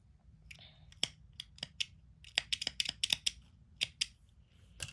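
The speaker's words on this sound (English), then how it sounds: "I'm just gonna slip it, cut it off" Scissors snipping through crochet yarn at the end of an infinity scarf, a quick irregular series of crisp close clicks and cuts in a quiet room.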